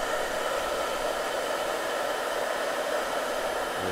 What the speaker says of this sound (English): because this is a hair dryer, we're gonna wait a little longer